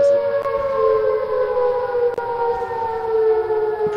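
A steady, droning civil defense siren in the video game Project Tank holds a sustained wailing tone with faint clicks, sounding somewhat distant and synthetic.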